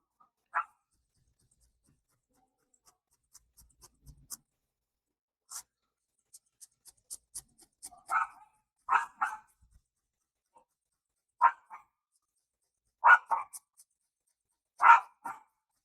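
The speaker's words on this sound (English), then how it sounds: "We're gonna let them bark in for a little bit." Indoor dogs bark at someone at the front door in a string of short, fairly distant bursts, sometimes doubled, spread irregularly across the stretch, with light scratching and clicking sounds between them and no talking.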